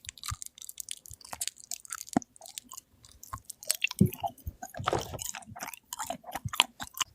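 Close-up chewing of a crunchy, jelly-like sweet resembling yanggaeng, with crisp crackles and soft wet squishes in an irregular rhythm, quiet and intimate with no talking.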